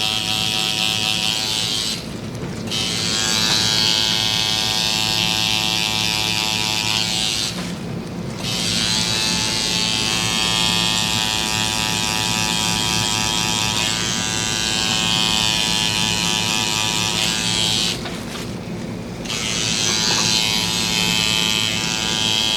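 A tattoo machine needle lays in solid color on a cartoon character tattoo, giving a loud, continuous close buzz that briefly drops out three times as the machine lifts away.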